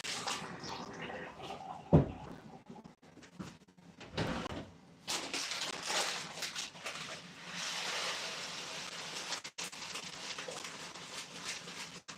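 Water pours into a large cup in a home kitchen, a steady splashing stream that builds over several seconds, mixed with knocks and clatter from handling cups and cupboards nearby, with no talking.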